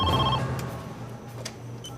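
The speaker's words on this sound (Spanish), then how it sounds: "Más tarde esa noche sonó el teléfono." A telephone rings indoors late at night with a short, bright electronic trill at the very start, then the room falls to a low, quiet hum.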